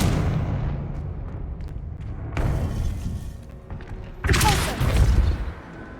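A Confringo blasting spell explodes in Hogwarts Legacy, with two loud booming bursts, the second around the four-second mark, over a dense rumbling game soundscape.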